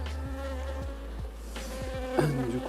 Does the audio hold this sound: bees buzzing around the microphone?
yes